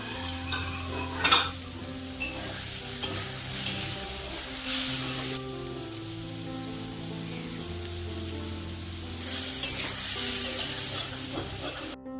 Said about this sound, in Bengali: চাল কুমড়ো ভেজে নেওয়া হয়ে গেছে